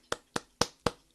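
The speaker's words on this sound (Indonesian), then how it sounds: "Kita tepuk tangan dulu yuk sama-sama." Four evenly spaced hand claps, sharp and fairly faint, come in a quick steady rhythm with silence between them and no talking over them.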